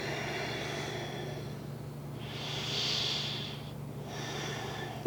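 A slow, steady breath through the nose during a yoga gate pose, swelling into one soft airy rush in the middle of the clip over a faint constant background hum.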